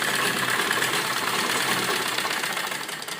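A sewing machine runs steadily, stitching along the buckram edge of a pleated frock near the neckline. The mechanical whir is close and continuous and eases slightly toward the end.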